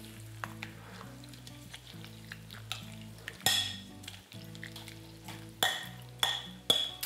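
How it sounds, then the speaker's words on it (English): Coconut milk is stirred into a persimmon mixture, with soft stirring sounds and several sharp spoon clinks against the bowl under background music. "And then I've got my coconut milk. I'm going to mix that all together."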